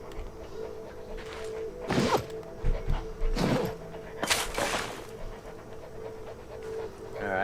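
A dog pants in the video game Hello Neighbor 2, a soft rhythmic huffing mixed with a few loud thumps and knocks from the game.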